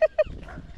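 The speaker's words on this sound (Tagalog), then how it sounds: "ang daming aso ni Kanuto ah" Dogs barking, two quick close barks in a row at an outdoor home, then only low background noise.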